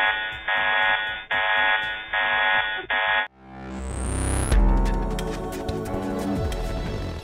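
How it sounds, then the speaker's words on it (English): An alarm sounds in a telescope control room at the European Southern Observatory's VLT, four loud buzzing pulses in quick succession, then a rising tone and a swell of music. "But suddenly, an alarm rings and calls for their undivided attention."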